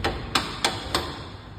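Four sharp metallic hammer strikes from a welding hammer used to knock slag off a wheel after welding, evenly spaced about a third of a second apart, close and clear with no talking.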